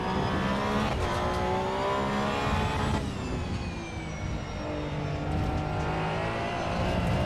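Car engine in the racing sim Assetto Corsa EVO 0.4, revving loudly and steadily with rising and falling pitch as gears change, a continuous close engine roar with no talking.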